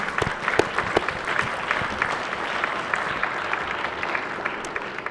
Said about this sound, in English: if you could give a round of applause to Debbie Baker, her mother, and her husband